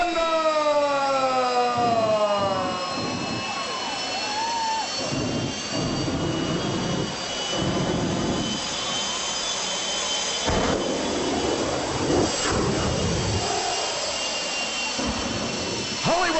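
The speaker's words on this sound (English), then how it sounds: "the world's fastest street legal jet" Loud, sustained roar of the Hollywood Thunder jet-powered street-legal truck at a 2001 stunt show, with swooping siren-like whines and pitch sweeps over a continuous high-pitched turbine drone.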